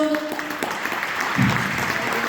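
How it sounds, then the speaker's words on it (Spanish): Audience applause at an international ufology congress as a conference speaker is welcomed, a steady dense wash of clapping from a seated crowd, moderately loud, with faint voices mixed in. "Quiero que recibamos con un fuerte aplauso a Luis Emilio Anino,"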